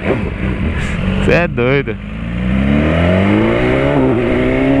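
A BMW S1000 motorcycle engine revs hard in a quick rising burst and then settles into a loud, steady growl, with someone speaking briefly over it near the start.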